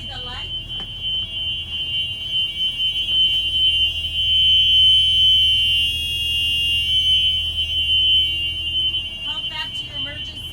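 A 2020 Thomas school bus emergency exit hatch alarm buzzes with a steady high electronic tone after the hatch is opened, while a person talks over it nearby.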